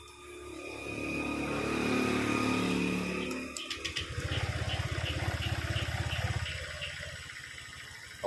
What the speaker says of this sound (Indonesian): Oke, mesin sudah menyala.